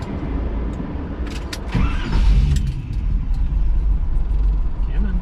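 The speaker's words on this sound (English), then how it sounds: "I have to start the vehicle" A 1978 Roadster Shop Pontiac Trans Am engine cranks and fires, then settles into a loud, steady idle rumble that swells after about two seconds and holds close by, with speech faintly underneath.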